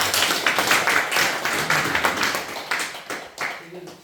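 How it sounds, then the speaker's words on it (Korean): An audience at a Won Buddhist training gathering claps steadily for several seconds, a dense patter of many hands with voices talking through it before the applause fades. "훌륭한 엄마하고 딸에게 박수를 줘요."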